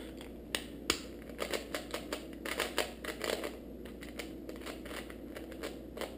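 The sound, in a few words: Shengshou 3x3 puzzle cube being turned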